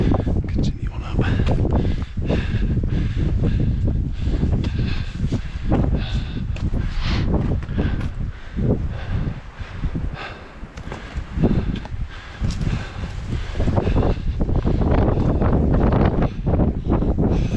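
Strong wind gusts across an exposed mountain trail in the Yatsugatake range, blustering continuously into the microphone with rough, uneven buffeting, mixed with footsteps and rustling, while a person talks at times over it.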